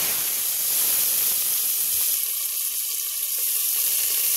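Chopped onions tipped into hot oil in a pressure cooker on a gas stove give a loud, steady sizzling hiss that carries on without a break.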